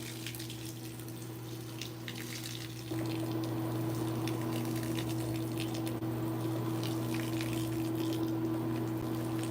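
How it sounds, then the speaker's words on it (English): Suds and water draining from a washing machine drain hose, a continuous gushing flow that steps up sharply in volume after about three seconds, underpinned by a steady humming pump tone, close and with no talking. "it's just suds coming out of the drain hose"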